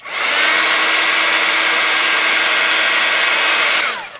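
A heat tool blows steadily and loudly to reheat glitter set on embossing powder for a handmade wedding card, a constant high whooshing roar that runs for several seconds, then cuts off and winds down.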